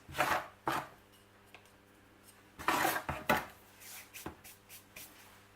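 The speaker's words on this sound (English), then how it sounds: "let's just fill this little pot with some African violet mix" African violet potting mix being scooped and poured into a small pot, with several scraping, rustling bursts and light knocks of the pot spread irregularly, close and fairly quiet.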